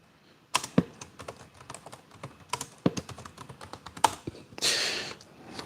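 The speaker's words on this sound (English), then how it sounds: "I'm not that fast at typing, so just give me one sec." Rapid computer keyboard typing in short irregular bursts of clicks, close and fairly loud, with a brief louder hissing burst near the end; no talking.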